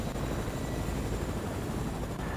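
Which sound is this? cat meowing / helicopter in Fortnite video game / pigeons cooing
helicopter in Fortnite video game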